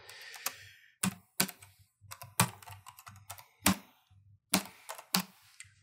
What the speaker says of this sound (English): but we're just typing it all.